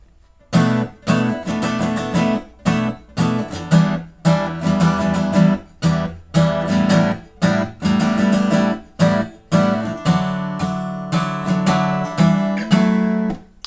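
Acoustic guitar playing the second verse of a song, a steady strummed chord pattern with regular down-up strokes and short breaks between phrases, close and even in level, with no voice over it.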